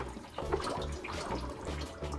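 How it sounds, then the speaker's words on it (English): A Cascade canister filter on a turtle tank bubbles as it is primed and water pushes the air out: a steady, continuous gurgle and fizz that stays close and even from start to finish. "if I hit this button to prime, that means water is going to enter the filter and it's letting the air out. So that's why you hear bubbles."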